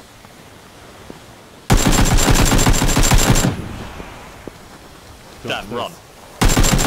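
Rapid automatic gunfire rattles in the battle-royale video game PUBG, with a close, loud burst of nearly two seconds and another that starts at the end. A player's voice briefly speaks in the gap.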